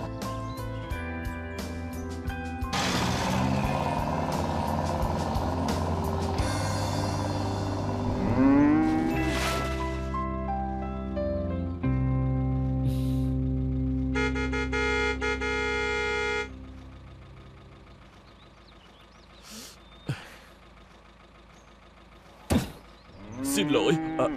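A cow moos loudly and close by several times over a musical score, with other dramatic sounds and a car horn toward the end.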